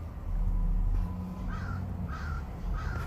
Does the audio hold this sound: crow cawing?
yes